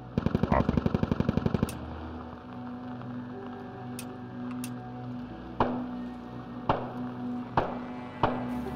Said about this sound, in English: That's enemy machine gun.